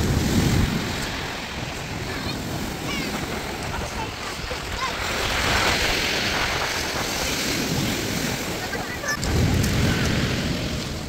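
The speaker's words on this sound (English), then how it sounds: "Look at the waves." Ocean waves along the Isle of Wight shore wash in broad surges near the start and end, under steady wind buffeting the microphone.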